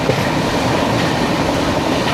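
The Kollam–Thiruvananthapuram passenger train rumbles loudly and steadily past on the rails, a dense continuous roar close by with no break in the noise.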